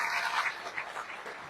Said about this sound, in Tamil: நீங்கள் ஒரு தடவை எனக்கு உங்கள் அனைவருடைய கையையும் தட்டி ஆரவாரப்படுத்தி கரகோஷப்படுத்தி காட்ட வேண்டும்.